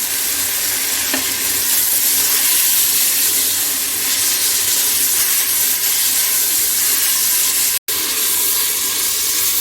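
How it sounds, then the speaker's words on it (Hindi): Tomatoes and green chilies sizzle loudly and steadily in a hot pan over high heat while mutton is cooked. The frying hiss is continuous and close, with one brief cut near the end. "टमाटर डालेंगे, तेज आंच पर टमाटरों का पानी खुश्क करेंगे।"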